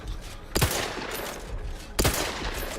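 Gunfire in the video game The Outer Worlds 2: two heavy blasts about a second and a half apart, each with a thumping low end, over a dense, loud background of combat noise.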